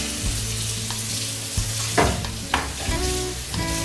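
Garlic hits a hot pan holding a cooking flour mixture and sizzles steadily, with a few stirring scrapes and clinks over the loud, continuous frying.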